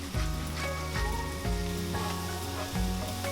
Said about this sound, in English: Mix that around, saute until they become slightly softened